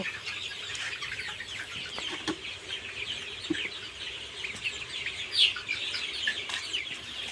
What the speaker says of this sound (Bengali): একটা বড় দেখে মুরগি ধরার চেষ্টা করব তো মুরগিগুলো খুবই চঞ্চল